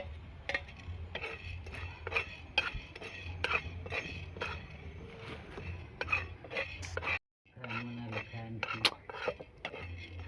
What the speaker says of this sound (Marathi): आता आपण याच्यावरती डाळ भाजून घेऊ डाळ पण आपण लाल रंग येईपर्यंत भाजी आहे